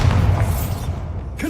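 The Bombarda explosion spell in Hogwarts Legacy lands as a short, loud, low boom that rumbles briefly before a quick tail.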